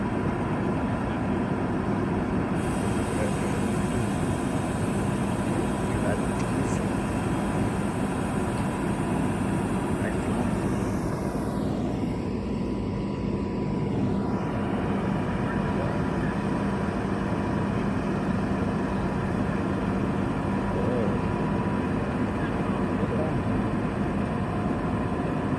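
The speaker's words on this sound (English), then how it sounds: "set the diesel engine to high idle" Diesel engine of a Pierce pumper fire engine running at high idle, a steady, loud, continuous rumble throughout with a passing higher-pitched sweep midway.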